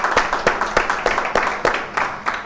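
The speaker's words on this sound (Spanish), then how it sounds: "me gustaría que los antiguos pues le diéramos un aplauso" Scattered hand claps from an audience in a Bible study class ring out at an uneven rhythm, roughly a dozen distinct sharp claps over a couple of seconds at moderate volume, with no one speaking.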